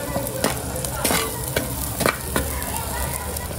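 Whole ground masala paste roasting in a pan for a Maharashtrian val birde curry, with a steady close sizzle and a few sharp scraping strokes of a spoon stirring it, no talk.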